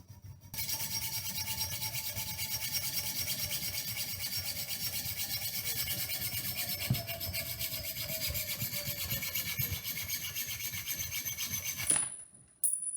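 Sharpened nails clamped in a vise are cut in half with a steady, continuous rasping saw stroke for about eleven seconds, ending in a sharp metallic clink as the piece breaks free.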